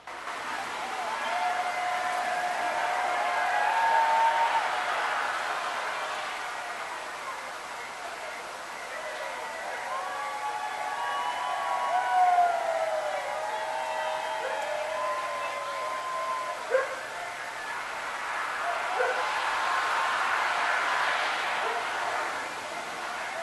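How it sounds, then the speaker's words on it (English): Distant crowd noise near the Tropical Paradise venue, heard from a resident's backyard a few hundred feet away: a steady murmur of voices and cheering swells and fades across the recording, with passing cars and a few sharp sounds mixed in. "I would like to share with you a sampling of what the crowd noise can sound like to the residents near Tropical"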